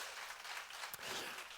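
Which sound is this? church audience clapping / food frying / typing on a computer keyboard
church audience clapping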